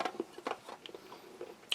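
Crisp bites and crunchy chewing of firm, bitter chocolate from a Latvian army combat ration, several sharp snaps followed by softer munching, close and quiet with no talking.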